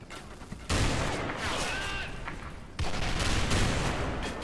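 CZ 700 rifle fire in the video game Special Force 2: two loud, close blasts about two seconds apart, each followed by a long dense roar of gunfire and action noise.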